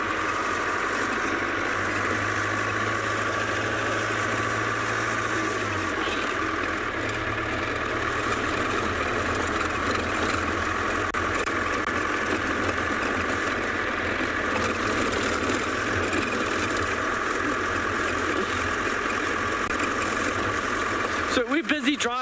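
A safari vehicle's engine drones steadily as it drives along a sandy dune road in the Kalahari at sunrise. The loud, continuous rumble carries a rattling vibration throughout.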